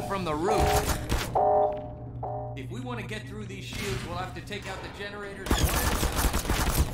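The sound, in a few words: pistol gunfire in video game Half-Life 2 RTX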